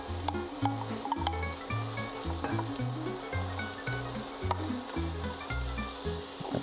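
Onions sizzle in olive oil over medium heat in a soup pot, a steady frying hiss running throughout with scraping stirs and clinks of a utensil against the pot.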